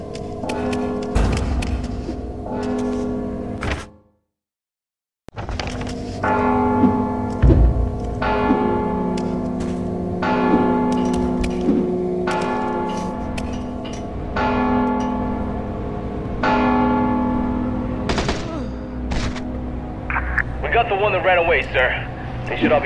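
A bell rings out in Mark of the Ninja, resonant tolls sustaining under music and a voice talking, with a brief silent gap early on before the ringing and score resume.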